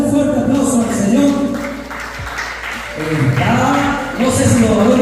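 Church congregation clapping loudly together at a Christian family sermon, a dense sustained applause that swells and fades over a few seconds, mixed with voices and shouts.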